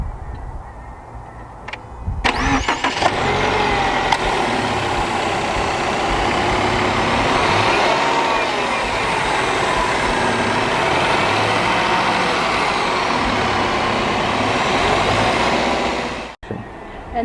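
The boxer engine of a 2013 Impreza cranks and catches, then settles into a steady, low idle that runs smoothly until an abrupt cut near the end.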